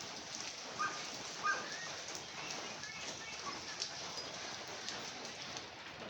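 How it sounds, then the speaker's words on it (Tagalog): Rain falls steadily over an outdoor scrap-collecting route under dark, cloudy skies, a soft continuous hiss with faint scattered patters. "ang ulan pa."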